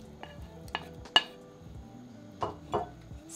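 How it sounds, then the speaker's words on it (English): A spoon scrapes and clinks against a pan as beef is stirred into madras curry, five or six distinct metallic knocks at uneven intervals, close and clear with no talking. "Stir together, then cover the pan with a lid"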